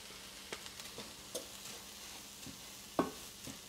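Garlic hitting a hot pan with lentils, giving soft crackling sizzle and a few sharp clinks and stirring knocks, one louder clatter near the end, fairly quiet overall.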